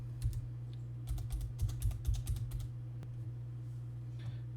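Fingers typing an IP address on a computer keyboard: quick bursts of close, crisp key clicks in irregular runs, then a pause and a couple of isolated taps over a low steady hum.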